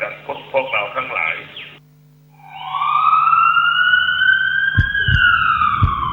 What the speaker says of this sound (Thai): เมื่อได้ยินเสียงสัญญาณไซเรนแล้วพบรถฉุกเฉินกำลังปฏิบัติหน้าที่